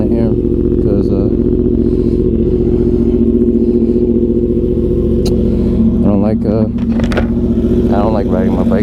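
A Yamaha R1 sport motorcycle idles steadily as it warms up at night, a loud continuous low engine drone with a brief blip partway through, and people talk over it.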